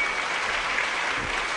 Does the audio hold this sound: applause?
yes